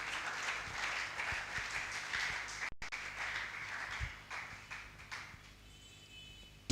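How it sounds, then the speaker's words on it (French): Congregation applauding in a church service, a broad sustained patter of clapping that thins out toward the end, fairly distant in the room. "Acclamons pour la parole."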